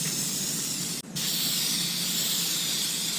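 An aerosol spray paint can hisses steadily onto motorcycle plastics from a 2020 Suzuki DR650 sidecar build, a loud continuous broadband spray with one brief cutoff before resuming.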